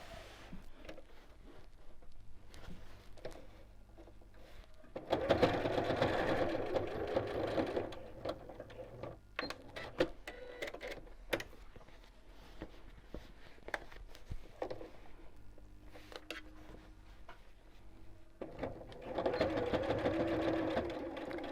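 A sewing machine sews through thick layers at the corner of a fabric storage box, running in steady close bursts with quieter gaps and faint handling noises between them.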